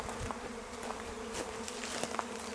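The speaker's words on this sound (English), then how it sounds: "swarm of bees that we've got here at the moment." A small swarm of bees buzzing steadily outdoors, a close, continuous drone with no talk over it.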